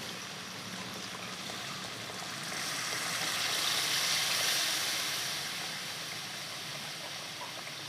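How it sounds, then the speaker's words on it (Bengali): Water pours into a pan of Sundarbans salt-water crab curry as a soft, faint hissing rush that builds in the middle and then eases back down. "আমি এবারে জলটা দিয়ে দিচ্ছি এতে।"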